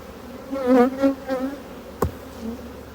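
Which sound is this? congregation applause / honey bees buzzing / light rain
honey bees buzzing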